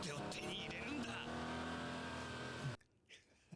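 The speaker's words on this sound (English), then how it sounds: "A nice car chase with a Porsche and a sport bike." An anime car chase between a Porsche and a sport bike: loud, close engine roar with rising revs for nearly three seconds, then cutting off abruptly to near silence.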